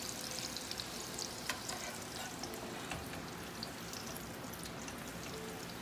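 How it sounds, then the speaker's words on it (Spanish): Beans boil in lard and oil in a pan, giving a steady, close crackling sizzle with small pops throughout and no talking. "el aceite y los frijolitos ya están empezando a hervir"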